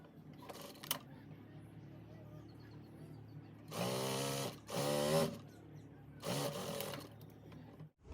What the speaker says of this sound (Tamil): மற்ற கையையும் வந்து மடித்து தைப்போம்.